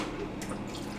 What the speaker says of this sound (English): I'm going to fill that half a cup up with water